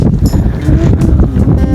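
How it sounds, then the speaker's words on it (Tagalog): Steady, loud wind rushing and buffeting across the microphone, a broad low rumble with no clear gaps, outdoors among mangroves at Khor Kalba, UAE. "Simoy ng hangin."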